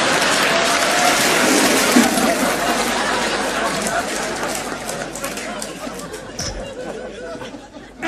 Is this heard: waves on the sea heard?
no